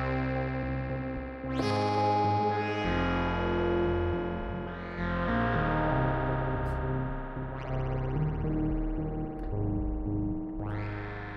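Reaktor Monark software synthesizer with its oscillators playing a sequence of sustained, buzzy notes, bright attacks sweeping in at several points, loud and continuous with no talk.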